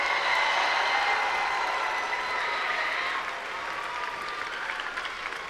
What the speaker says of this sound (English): Let's give our mentors and coaches a huge round of applause.